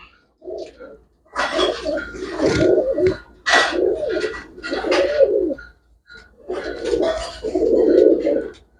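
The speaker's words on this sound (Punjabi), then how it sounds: "ਕਾਲੀ ਚਿੱਟੀ ਅੱਖ ਦਾ ਬਾਈ ਕਮਾਂਡਲਾ ਕਬੂਤਰ ਆ" A Kamandla pigeon with black-and-white eyes coos in a series of low, throaty bursts, close and fairly loud, with short pauses between phrases and a faint background hum.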